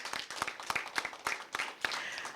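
A small crowd at a school debate competition claps for a speaker, a brief patter of scattered hand claps that stays fairly faint throughout.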